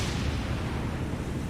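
Warship deck gun in the naval combat game War on the Sea, Operation Watchtower, firing an armor-piercing shell: a dense, sustained low rumbling blast filling the short moment with no talk.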